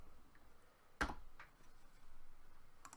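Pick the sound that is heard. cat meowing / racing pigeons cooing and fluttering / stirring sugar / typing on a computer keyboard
typing on a computer keyboard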